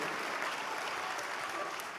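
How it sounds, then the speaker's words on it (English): Audience applause at a business convention stage event, a steady sustained clapping from a large crowd, even and moderately loud throughout with no talk over it. "can you give a big round of applause to Mr. Mark Sterling?"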